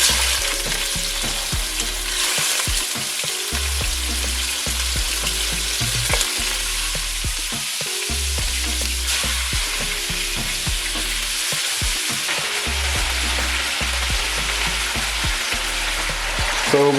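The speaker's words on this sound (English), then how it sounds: "Remember, we are browning it right now." Pork pieces browning in a pot for Jamaican stew pork give a loud, continuous sizzle close up, with repeated low thumps and scrapes from stirring throughout and no voices.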